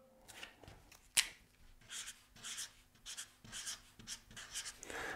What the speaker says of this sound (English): So let's write color.